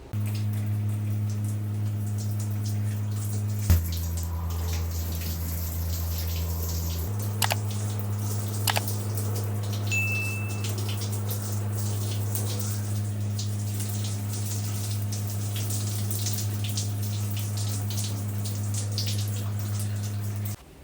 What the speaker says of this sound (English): that was a good 5 minutes of just drenching my hair in very warm water